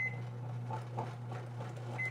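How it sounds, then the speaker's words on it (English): Bread machine beeping to signal time for mix-ins during a cinnamon raisin honey bread cycle, with a few short electronic tones over a steady low motor hum. "My bread machine's beeping to let me know it's time to add any mix-ins that I might have."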